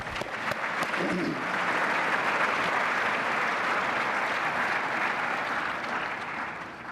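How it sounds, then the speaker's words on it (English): Steady audience applause at an award presentation, a dense wash of clapping from a crowd lasting several seconds, fairly distant and even, with a few faint voices underneath. "I think we should give them all a round of applause."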